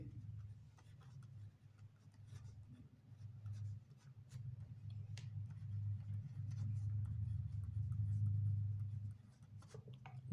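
Pen scratching on paper as a math solution is written out by hand, soft continuous scribbling strokes close by over a low background hum, with faint quiet speech in places.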